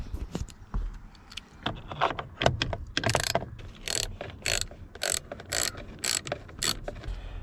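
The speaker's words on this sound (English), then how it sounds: "We've got a 10mm socket and we're going to pull out 4 nuts" A 10mm socket ratchet clicks in quick bursts as it backs out the nuts holding the wood-grain steering wheel airbag on a 1995 Ford Club Wagon, the rhythmic ratcheting loud and close.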